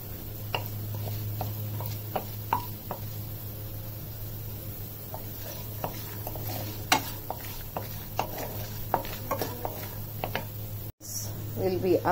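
Peanuts and cumin seeds roasting in a pan, stirred with a utensil that gives irregular light clicks and scrapes over a soft sizzle and a steady low hum; a voice speaks briefly.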